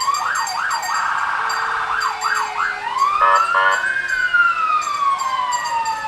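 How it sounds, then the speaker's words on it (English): Loud fire department sirens wailing and yelping close by during a hometown parade, overlapping wavering tones with a horn-like blast in the middle, several sirens sounding together. "You can't compete with the sirens, Al."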